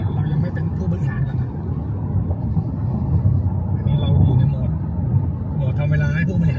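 Toyota Camry HEV Premium Luxury hybrid sedan with an eCVT gearbox driving, a steady low road rumble and engine hum from inside the cabin, continuous throughout.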